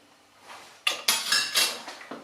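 Yoghurt quickly mixed into batter in a bowl, heard as a rapid series of bright clinks and scrapes of a utensil against the bowl, close and fairly loud after a short quiet start.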